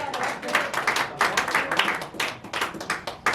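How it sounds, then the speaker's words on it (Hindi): An audience at a Hindi poetry recital claps in quick, rhythmic bursts, loud and close, continuing for a few seconds. "तालियां ही बजाना होता है।"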